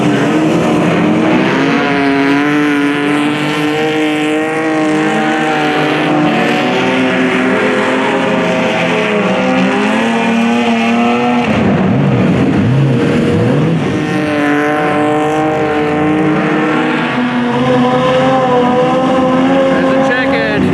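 A 6-cylinder race car roars around a track during a heat of a 100-lap race, its engine note rising and falling as it laps, loud and continuous, with an announcer talking over it.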